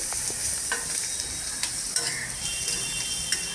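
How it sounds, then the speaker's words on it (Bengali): Onion fries in oil in a pan, giving a steady close sizzle with faint stirring scrapes and a few soft utensil clicks, no voices. "একটু পেঁয়াজটা ভেজে নিচ্ছি।"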